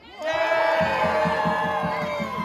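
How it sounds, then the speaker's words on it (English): Outdoor protest crowd on a march to Central Library in Cardiff cheering and whooping loudly, with rhythmic clapping and chanting pulses starting partway through and continuing steadily to the end. "Can we have a round of applause for Black Lives Matter?"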